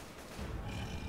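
A Tank zombie in Left 4 Dead gives a brief rough, guttural growl, loud and close, lasting about a second.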